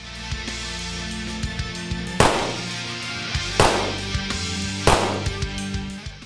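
A handgun fired one-handed with the weak hand, three loud, sharp shots spaced roughly a second and a half apart, with ringing decay and lighter clicks and handling noises between them.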